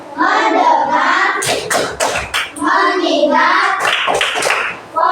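Fifth-grade students in a classroom do a focus-clap chant, voices in unison alternating with quick bursts of rhythmic hand clapping.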